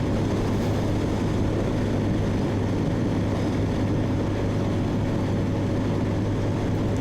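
A BOOM BD125-2 motorcycle cruises on a highway, its engine droning steadily under loud, constant wind rush, with no break for the whole stretch.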